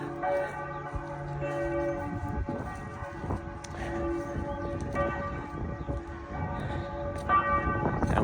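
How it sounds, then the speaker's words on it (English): Castle bells ring steadily nearby, their layered, sustained tones overlapping and reverberating continuously, loud and unaccompanied by speech. "Oh, hey, we're being serenaded by the bells."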